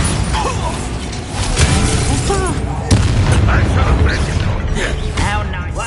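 A Bombarda spell explosion in the Hogwarts Legacy video game, a loud blast within dense, continuous combat noise, with other spell effects and voices mixed throughout.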